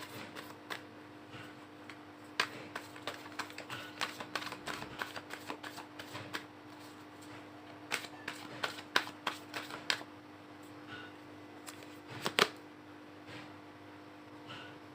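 Tarot cards are shuffled by hand in a quiet room, giving a long run of soft, irregular card slaps and riffles with a few sharper snaps.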